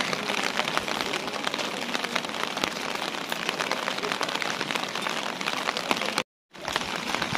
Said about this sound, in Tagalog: At umuulan dito sa Osaka.